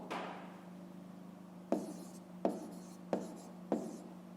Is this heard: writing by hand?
yes